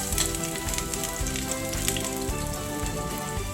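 Garlic sizzling in hot oil at the start of arroz caldo, a dense steady crackle and hiss filling the pan close up, with no talk over it.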